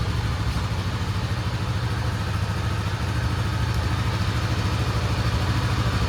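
A Honda CB300F motorcycle engine idles steadily up close, a constant low throbbing rumble with no breaks or revving throughout.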